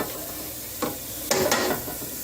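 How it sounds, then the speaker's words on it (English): Onions and carrots sautéing in a pan give a soft, steady sizzle, broken by a few sharp scraping stirs of a utensil against the cookware, close and without talk. "Alright, so I sauteed the onions."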